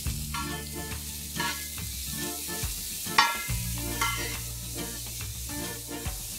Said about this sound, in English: I have chopped 3 medium onions here, which I'm going to saute nice and translucent.